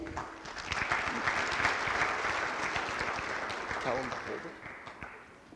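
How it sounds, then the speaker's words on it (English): An audience claps steadily for several seconds at a Monticello High School National Honor Society induction, a dense patter of many hands with a voice speaking over it. "Please hold your applause till the end."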